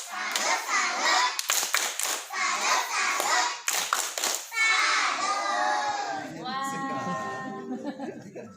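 A group of kindergarten children perform a rhythmic clapping chant, bursts of sharp hand claps alternating with sung and shouted lines, led by an adult voice, with bright, close, lively energy in an indoor setting.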